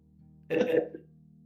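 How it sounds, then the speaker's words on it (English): Burp over a live voice-chat microphone during an online tabletop game session: one short, throaty belch of about half a second, close and fairly loud over a low steady background hum. "We can hear you burping."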